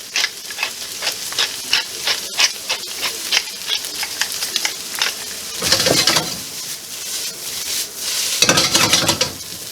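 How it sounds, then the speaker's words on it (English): Pork fried rice being stir-fried in a hot pan: a rhythmic series of quick scraping strokes over a steady sizzle, then two louder bursts of frying hiss, close up and with no one talking. "And when you're stir frying, it happens pretty quick."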